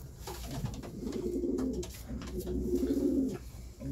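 Racing pigeons in a champion breeder's loft coo in two low, rolling phrases, close and fairly loud, over a soft steady background.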